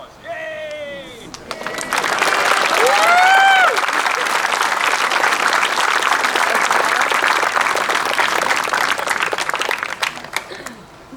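A crowd at a canoe club blessing on Kailua Beach bursts into sustained clapping and cheering, with whoops and voices over a steady wash of applause that fades at the end.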